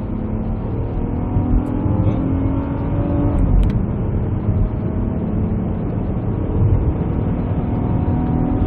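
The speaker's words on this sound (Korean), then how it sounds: "일단 들어가서 고객님하고 또 한번 테스트 주행 해보도록 하겠습니다." A car engine hums steadily from inside the cabin during a test drive, a low continuous drone with slight rises in revs, no talking.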